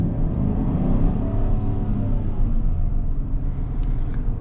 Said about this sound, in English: Throttle response time is pretty decent. It is naturally aspirated V8.